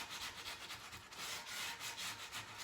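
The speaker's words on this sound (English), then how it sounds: "So I'll sand the faces of each arch, and I'll do the same to the underside." Sandpaper rubs back and forth across the faces of a wooden arch in quick, even strokes, close by and fairly quiet.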